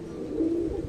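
A racing pigeon back from a club race in Famy, Laguna gives a short, soft, low coo, close and alone in a quiet moment.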